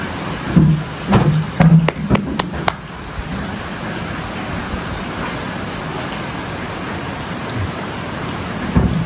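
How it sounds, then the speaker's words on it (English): Steady rain falling on a rainy day near a barn, a dense constant hiss with a few sharp taps and knocks early on, fairly loud and continuous with no talking. "it's a rainy day"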